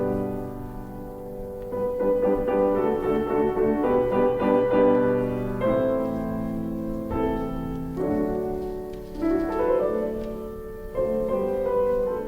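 Opening of Beethoven's Fourth Piano Concerto, a soft orchestral passage of sustained harmonic chords and gentle melodic lines, steady and moderately loud throughout, with no voices.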